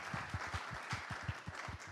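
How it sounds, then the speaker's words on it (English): Conference attendees applauding themselves at the close of a food and data event, a faint, distant patter of clapping from a modest crowd, with rhythmic low thumps running underneath. "Round of applause for"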